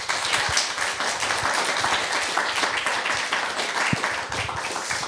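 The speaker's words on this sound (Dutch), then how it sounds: "Mag ik een heel hartelijk applaus nog voor Dasha en Siri?" Audience at a talk on therapy and social media claps warmly for two speakers, a dense, even patter of many hands sustained at steady volume throughout.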